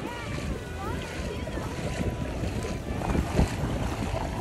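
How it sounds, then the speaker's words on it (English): Strong wind rushes across a boat deck in a loud, continuous roar with gusty swells, and faint voices are buried in the buffeting. "is it hard to walk in the wind?"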